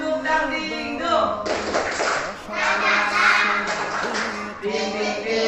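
Children clapping hands in a rhythmic clapping chant game, quick taps and claps in steady patterns woven through a group of young voices chanting along nearby.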